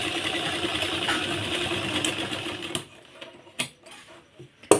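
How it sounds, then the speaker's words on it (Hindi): Sewing machine stitching a blouse, a steady whirring drone of rapid needle strokes that runs for a few seconds and then stops, leaving scattered handling clicks and thumps. "यहाँ पे एक और कच्ची सिलाई लगा देंगे"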